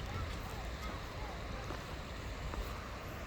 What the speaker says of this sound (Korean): 물소리도 왜 이렇게 듣기 좋은지. 어제 비가 와서 물의 양이 늘었나봐요. 이렇게 소리가 여기까지 들려요.